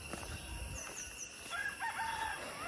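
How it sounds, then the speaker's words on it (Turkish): A rooster crows in a village, a single drawn-out call that rises above quiet rural background sound, somewhat distant and fairly faint. "Tavukun ötmesi bile var köyde."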